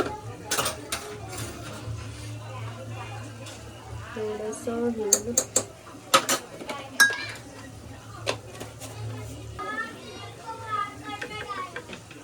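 Spices being stirred into dal khichdi in a metal pot, a spoon clinking and scraping against the sides in irregular bursts, with a voice speaking intermittently over the kitchen sounds.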